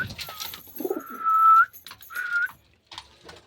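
Birds in a home pigeon loft give two clear sustained whistle-like calls with softer low coos around them, close and fairly loud, then fading to quiet.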